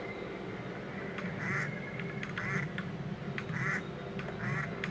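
Repeated duck quacks from a player-controlled duck underwater in the video game Single Feather, about four short bursts at steady intervals over a bubbling, murky backdrop, fairly close and moderately loud.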